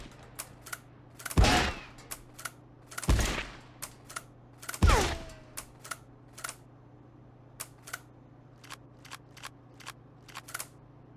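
Three loud, sharp shots from the Mosin Obrez pistol, hip-fired in the Marauders video game, come at a steady spacing of about a second and a half. Light mechanical clicks tick around and between the shots.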